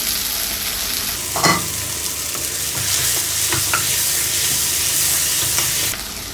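Paneer butter masala with green chillies and coriander sautés in a pan, a constant loud sizzle and steamy hiss with occasional spoon knocks and scrapes, close by and with no talk.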